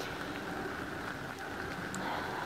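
Steady rain patters on a tarp stretched over an outdoor rabbit house, a continuous close hiss of drops with no voices.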